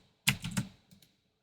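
A few computer keyboard keys pressed during modelling work in Autodesk Inventor: a quick cluster of three close clicks, then two fainter taps, nearby and alone with no talking.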